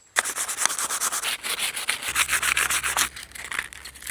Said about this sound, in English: After everything is cleaned, I sand it down.